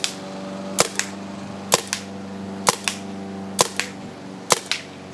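Paintball marker shots fired one after another over a chronograph, five evenly spaced sharp cracks, each followed by a quick softer pop, against a steady low hum outdoors.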